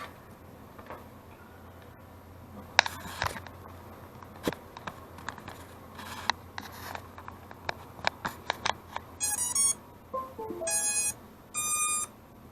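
F4 flight controller board on a drone, plugged in, giving off soft irregular ticks and clicks, then a series of short, clear electronic beeps toward the end, close and fairly quiet.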